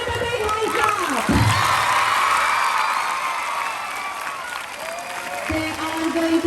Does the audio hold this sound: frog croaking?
no